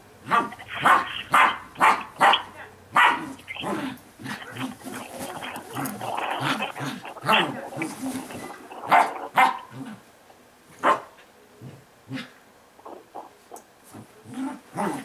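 A dog barking from a television in a home, several sharp barks spread through the stretch with rustling and noise between them.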